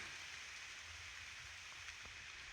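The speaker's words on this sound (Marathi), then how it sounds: "पाऊस चालू आहे" Light monsoon rain falls steadily in the Konkan countryside, a soft continuous hiss of drops with no voices, faint and even throughout.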